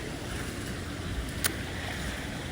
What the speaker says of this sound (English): You may hear some water in the background.